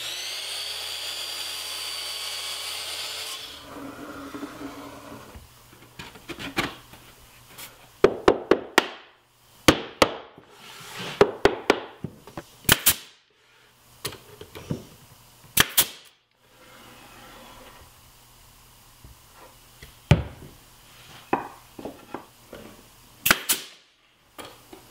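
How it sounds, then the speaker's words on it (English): Wooden rails for a paint can storage cabinet being cross-cut and nailed to shelves, with a power saw's whine followed by a run of sharp, close hammer or nailer strikes in uneven clusters and quiet gaps between. "now all I need to do is cross-cut them and nail them to the shelves"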